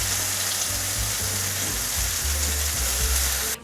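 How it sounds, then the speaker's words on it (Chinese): Shiitake mushrooms stir-fried in a pan, a loud, continuous close sizzle with a rough, churning texture that cuts off abruptly at the end. "现在给它推一边去，把香菇放进来，把香菇炒一下"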